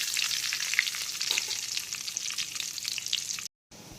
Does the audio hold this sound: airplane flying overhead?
no